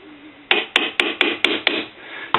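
A small hammer taps lightly seven times in a steady rhythm, seating an abalone inlay, each tap sharp and close with a short ringing decay.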